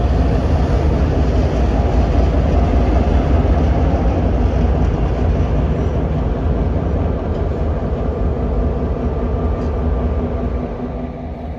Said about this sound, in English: The train shunts into push-pull formation here